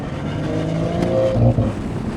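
A BMW 540i G30 engine tuned to about 470 hp rumbles steadily up close, with a couple of brief exhaust pops and crackles as the throttle is released at lower RPM.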